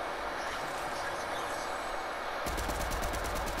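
Rapid gunfire in the Fortnite video game, a steady stream of shots that starts about two-thirds of the way in and continues close and loud over a dense game backdrop.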